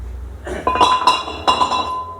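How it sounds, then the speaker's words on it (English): A brake rotor comes off a car hub in a shop, giving two or three sharp ringing metal clinks close by, each with a short bright decay, in a brief burst. "So you can see the rotor comes off."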